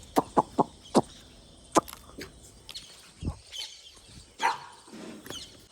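Chickens cluck in sharp, short bursts, a quick run of calls and then scattered ones, close by with no talking.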